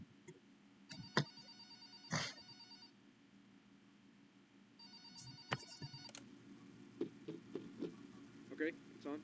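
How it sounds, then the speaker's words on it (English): Telephone ringing in the horror video game Nightmare at Charles, two rings from an old-style bell separated by a pause, faint against a quiet room tone, followed by a few soft clicks and knocks. "Right, we'll listen to this phone call."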